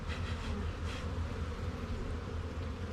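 Honey bees crowd a brood frame of open brood in a hive being set up as a cell builder, giving off a steady, dense buzzing hum close by with no voices.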